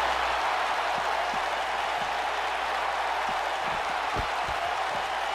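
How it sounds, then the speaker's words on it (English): Steady arena crowd noise from a WWE 2K19 wrestling video game in Universe Mode, a continuous roar with scattered low thumps running through the whole stretch. "I can't hear you over the crowd."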